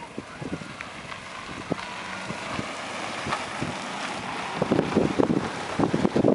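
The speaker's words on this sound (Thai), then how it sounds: "ลมแรง" Strong wind gusting around houses and a pole in an outdoor village yard, a steady roar of buffeting on the microphone that swells and grows louder toward the end, with no voices.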